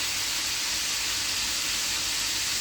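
Chicken, sweet chilli style, frying in hot oil in a pan, giving a steady, even sizzling hiss that carries on throughout without any talking.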